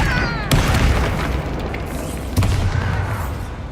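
Confringo explosive spell blasts in Hogwarts Legacy, with two deep booming impacts about two seconds apart over a dense, loud rumbling game soundscape.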